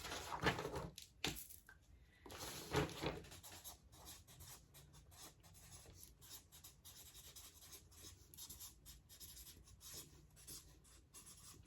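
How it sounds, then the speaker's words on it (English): A pen scratching and rubbing across paper, rapid writing strokes with a couple of louder scrawls near the start, then steady soft scribbling close by with no talk. "I'm going to write them down."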